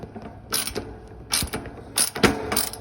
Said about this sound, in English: Put my screw back in it. Just switch the screwdriver around.